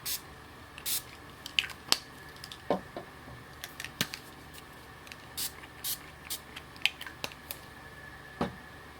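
Ink sprayed from a bottle onto a gel press over stencils, giving a scatter of short, soft spritzes and clicks at irregular intervals, close and fairly quiet in a still room.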